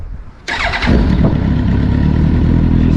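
A Kawasaki ZX10R motorcycle engine, fresh from a fuel pump rebuild, cranks briefly, then fires and catches into a loud, rough, throbbing idle, close and alone.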